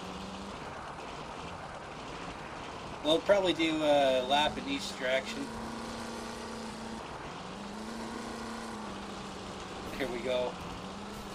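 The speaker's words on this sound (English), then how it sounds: "it's time to do a hot lap with the tractor on" An International Harvester truck hauling a tractor rumbles with a low steady engine drone and brief revving bursts in Spintires, someone talking over it.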